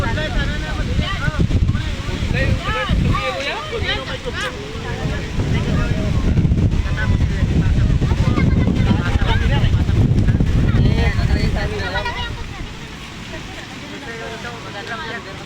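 Strong wind buffets the microphone on a hot day during a mountain picnic, a loud continuous roar and rumble throughout with people talking underneath, easing somewhat near the end.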